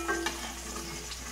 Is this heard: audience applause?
no